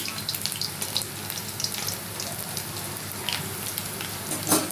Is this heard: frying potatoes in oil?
yes